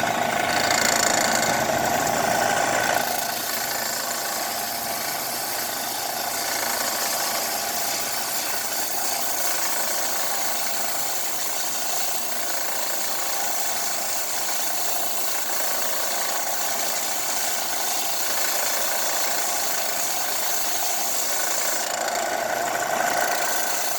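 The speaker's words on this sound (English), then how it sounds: "So let's take it over to the sander real quick." A steady mechanical whir of a power sander running continuously at close range, loud and unbroken, with no voices.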